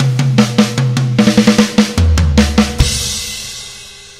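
A drum kit plays a two-measure fill, rapid close-miked tom and snare hits moving down the toms and ending on a crash cymbal that rings out and fades, with no talking.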